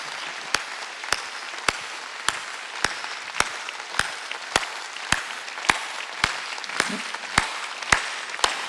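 A congregation at a Sunday church service claps in a steady, evenly spaced rhythm, roughly two sharp beats per second, loud and unbroken for the whole stretch.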